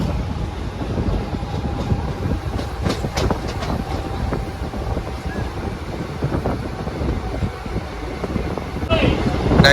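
The Yelagiri Express passenger train runs on the rails between Jolarpattai and Chennai. Heard from inside a crowded unreserved coach, it gives a loud, continuous rumble with clicking wheels and wind buffeting. A voice talks over the noise.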